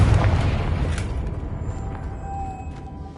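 A Confringo spell explodes in Hogwarts Legacy with a loud, close boom that rumbles heavily and then decays over a few seconds.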